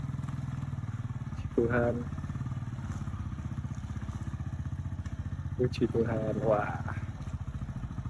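A motorcycle engine idling steadily nearby, a low even rumble running throughout while someone speaks briefly over it in exclamations.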